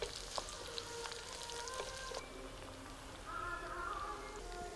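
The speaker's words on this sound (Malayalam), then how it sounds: "ഇത് നന്നായിട്ട് വഴന്നു വരണം." Green chilli and garlic sauté in a pan for a burnt brinjal curry, giving a steady close crackle and sizzle with a few faint clicks, alone without talk.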